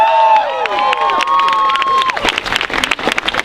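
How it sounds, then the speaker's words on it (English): A crowd at a protest rally cheers and claps loudly, with scattered whoops and shouts rising over the applause. "I just want a big round of applause for Jeremy Caigas."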